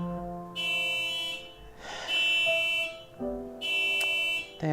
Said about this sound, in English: That alarm's gonna be going on for hours now.